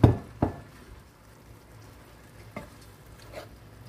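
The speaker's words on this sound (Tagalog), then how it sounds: "At lagyan natin ng konting sabaw. Ayan, konting sabaw." Chop suey vegetables with tofu stir-frying in a pan as broth is added, giving a soft steady sizzle with a few sharp splash or stir hits at the start and scattered later.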